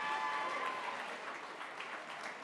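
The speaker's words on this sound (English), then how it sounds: "Give her a round of applause" Charity auction crowd applauding at a Habitat for Humanity gala, a steady wash of many hands clapping, distant and fairly soft, slowly tapering off.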